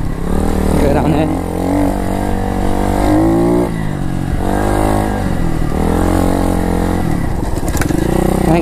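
A pit bike motorcycle ridden on dirt, its small engine loud and close as it revs up and down in repeated rising and falling surges, with wind buffeting throughout and a rider speaking over it.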